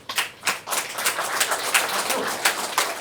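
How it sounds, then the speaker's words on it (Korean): A lecture audience claps to welcome a speaker on North Korean infiltration tactics: steady, moderately loud applause with sharp individual claps throughout, no voices. "나오실 때 큰 박수 한번 부탁드리겠습니다."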